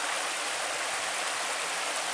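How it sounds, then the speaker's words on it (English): Anderson Branch, a small creek, rushes steadily where it feeds into No Business Creek, a dense, continuous broadband wash of flowing water heard close up with no voices. "here's little Anderson branch where it feeds into No Business Creek."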